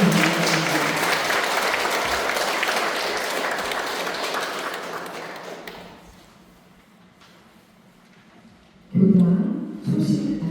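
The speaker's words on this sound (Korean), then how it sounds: "큰 박수로" An audience at a Sunday Won Buddhist service at a temple applauds loudly and steadily, then the clapping fades into near quiet before a voice begins speaking.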